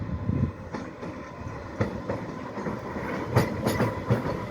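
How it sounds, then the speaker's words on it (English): An Island Line Class 484 train rumbles past Ryde Esplanade with a steady rolling roar and rhythmic wheel clacks over the rails, heard from nearby outdoors without talk. "Oh, we've got a train, we've got a train, we've got a train, and it's one of the Class 484D trains there."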